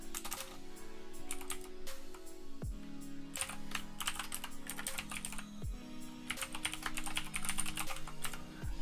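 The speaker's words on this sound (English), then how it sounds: "bear with me while I learn how to type again" Bursts of fast computer keyboard typing with brief pauses, close and fairly clear over a steady electrical hum, with a few heavier key thumps and no talking.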